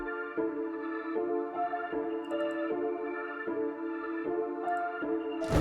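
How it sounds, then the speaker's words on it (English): A plain piano loop with no effects plays a steady, repeating chord pattern with regular attacks roughly every three-quarters of a second, sustained and clear throughout. "This one is without the effects, so just the regular piano."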